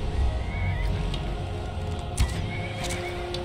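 A horse in the game Skyrim gives short whinnies mid-fight, heard over a steady wash of game ambience with a few thuds.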